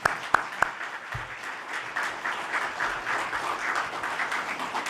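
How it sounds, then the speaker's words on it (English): An audience at a U.S. Secretary of Defense medal ceremony breaks into sustained applause after a few sharp early claps, a dense, steady clapping from a crowd of many people with no voices over it. "let's give Secretary Hicks a round of applause"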